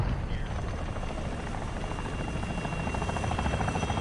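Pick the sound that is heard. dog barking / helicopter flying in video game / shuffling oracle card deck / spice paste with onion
helicopter flying in video game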